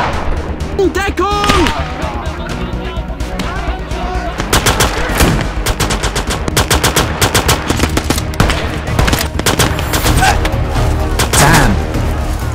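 Gunfire in Call to Arms: Gates of Hell, a Battle of Dunkirk 1940 mission, with loud sustained machine-gun bursts and rapid overlapping rifle shots, close and dense, under shouting voices.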